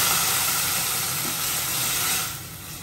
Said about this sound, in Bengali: এটা আমি জল অ্যাড করে দেবো।